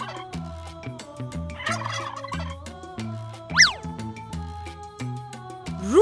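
A turkey gobbles repeatedly in rapid, rattling bursts, close and clear, with a sharper call near the middle and another at the end.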